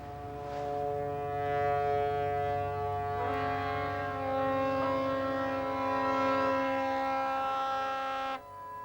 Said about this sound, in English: the escort and salvage vessels sounded their wailing sirens